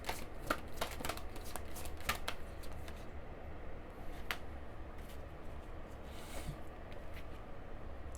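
A deck of fortune reading cards being shuffled, a quiet run of riffling flicks and soft card slaps at close range, steady under a low background hiss with no voices.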